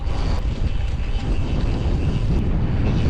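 A strong headwind on the Isle of Man roars continuously against the microphone, a dense low rumbling buffet that stays loud throughout with no speech.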